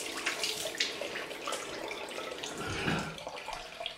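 Tap water runs steadily as shaving lather is rinsed off after a shave, a continuous splashing faucet stream with small bursts and no talking.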